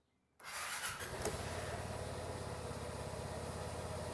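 A Vespa scooter, just brought out of winter storage, starts after a short quiet moment and settles into a loud, steady idle with a throbbing mid-range engine note that continues to the end.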